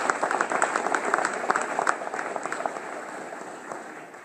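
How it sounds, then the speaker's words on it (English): Audience applause at a fire academy graduation ceremony, a steady patter of many hands clapping that gradually thins and fades over a few seconds, heard from within the room. "Let's just hold our applause to the end"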